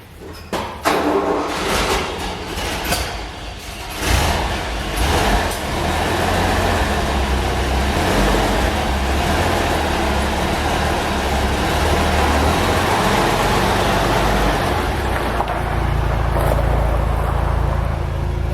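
A Toyota FJ40 Land Cruiser with a freshly repaired clutch drives along, its engine rumbling steadily and loudly from inside the cab amid rattles and clunks at the start, the drone holding nearly constant throughout.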